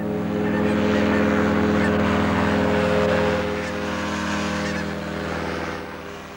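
Barnacle geese flying with a man in his flying machine honk over a steady, loud engine drone that continues throughout.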